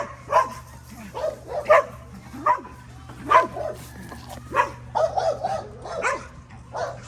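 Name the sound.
dog barking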